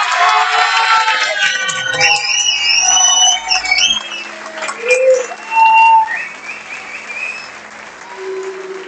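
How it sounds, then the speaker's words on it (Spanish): Audience at a kayak surf world championship closing ceremony in Argentina claps loudly at first, then the applause thins out amid scattered shouts, whistles and electronic tones, with a crowd murmuring underneath. "Fuerte el aplauso para Chema Carreto."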